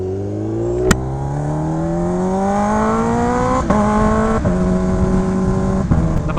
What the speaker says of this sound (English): The bike isn't warmed up yet, so I usually gun it here